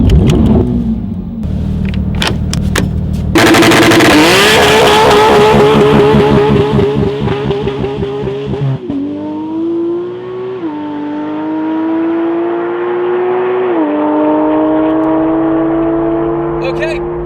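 A Porsche GT3 fitted with a new exhaust revs and pulls past, its engine note climbing through gears in loud sweeping pulls, with a voice briefly at the start.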